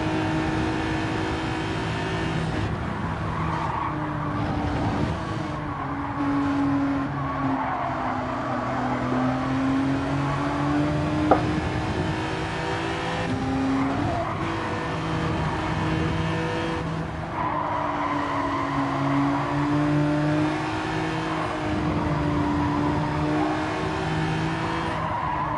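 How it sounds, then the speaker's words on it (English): Alfa Romeo race car in Gran Turismo 7 at Suzuka, its engine droning and revving steadily throughout with rising and falling pitch, tire squeal and nearby cars mixed in, loud and continuous with no talking. "I can't get away from that noise the Alpha makes even when I'm close to one."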